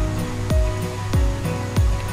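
A shallow, low-water river stream flows through a city forest near Temburun waterfall on Lombok, giving a steady broadband rush with a few soft, regularly spaced thumps over about two seconds.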